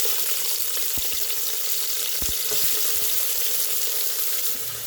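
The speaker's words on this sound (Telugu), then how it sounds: "నూనె వేడి కానిమ్మా. ఉల్లిగడ్డలు వేసుకుందాము." Sliced onions fry in hot oil for chicken curry, a loud, constant crackling sizzle with a few soft knocks of a stirring spoon against the pan.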